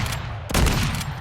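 Burst of gunfire in an online multiplayer shooter game, a dense rapid volley of shots that is loud and close, heard alone with no talk.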